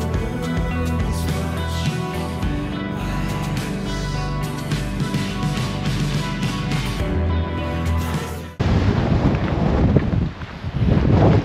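Strong wind gusting outdoors in Iceland near waterfalls, a loud continuous roar buffeting the microphone throughout, turning harsher and more ragged in the final few seconds.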